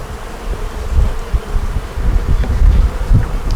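Honey bees buzz steadily around a hive frame of brood and foundation lifted during an inspection, a dense close drone with soft bumps and no talking.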